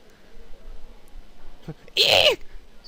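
A single loud, abrupt sneeze from a character in the horror game Corpse Party: Book of Shadows bursts out near the end after a quiet stretch.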